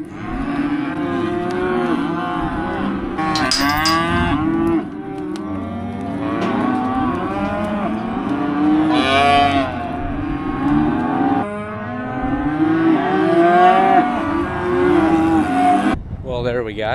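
Weaned calves bawling loudly and continuously, many overlapping moos from a large group of cattle on a farm, near and sustained throughout.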